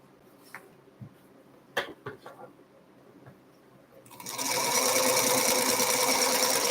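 A sewing machine starts up after a few soft knocks and handling clicks, then stitches in a steady, loud, continuous run to the end.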